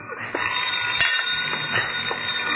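A telephone rings repeatedly with a bright, buzzy trill, fairly loud and close, against a busy background.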